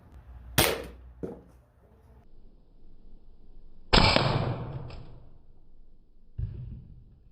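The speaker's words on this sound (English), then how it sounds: "Got the mag loaded up. Let's go and fire one out the box." A Sabre ApexPrime dart blaster fires a dart into a box: a sharp cracking shot, followed by a couple of smaller clicks, then a louder burst of impact with a brief high whine and a final thud.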